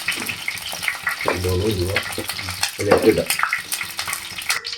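Coconut oil heats in a pan for Kerala-style fish head curry, giving a moderate sizzle mixed with water-like bubbling and clatter, close by, while people talk over it.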